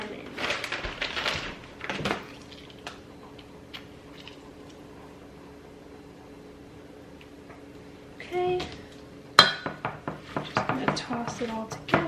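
Utensils clatter and tick against a salad bowl as dressed greens with pink Himalayan salt and lemon are tossed, in scattered bursts at the start and again near the end, with a quiet stretch between.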